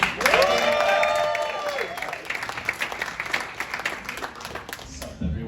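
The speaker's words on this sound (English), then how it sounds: "please give her a nice round of applause for Alex Tomaselli" Audience at a comedy show applauding and cheering as a comedian is introduced, loud clapping that fades over a few seconds into scattered claps and crowd murmur.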